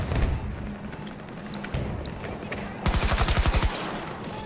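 Rapid automatic gunfire in Battlefield 2042, short bursts of close, punchy shots starting and stopping, then a louder sustained rattling volley near the end.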